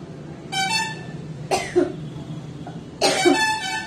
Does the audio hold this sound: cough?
yes